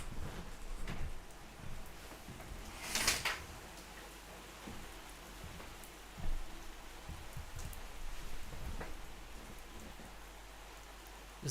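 Heavy rain pours down outside a window during a late-night stream, a dense steady hiss of drops with occasional louder taps and knocks nearby, heard without speech.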